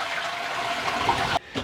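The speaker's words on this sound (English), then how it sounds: "All right, I'll just flush the toilet." A toilet flushes loudly and close by, its water rushing in a steady gush that cuts off abruptly near the end of the clip.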